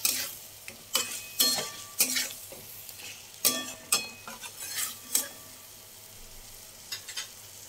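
Egg korma sautés in a pan, a quiet sizzle running under repeated close scraping strokes of a spoon stirring the food.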